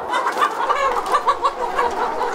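Chickens on a Korean poultry farm cluck in a busy, overlapping chorus of short rhythmic calls, fairly close and moderately loud, with no talking.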